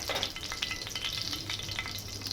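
Stuffed tomatoes shallow-fry in a little hot oil seasoned with black pepper, giving a steady close sizzle with small crackling pops throughout and no voices.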